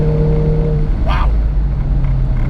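A 400 HP RevoTechnik Stage 3 VW Mk7 GTI pulling hard in third gear on a track, a loud, steady engine roar from inside the car with a brief sharp burst partway through.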